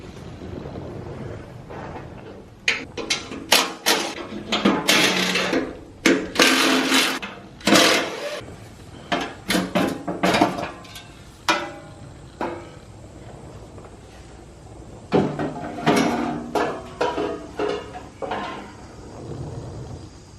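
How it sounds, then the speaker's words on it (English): A bash plate comes off the underside of an Isuzu D-Max during a home service, loud whirring bursts of a power tool spinning out bolts, repeated in short runs with clanks and pauses between. "I'm going to remove that now and then get to the oil filter"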